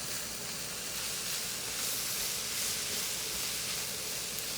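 An onion sweating in a pan for cottage pie, a soft, even hissing sizzle that holds steady without a break, fairly quiet and close.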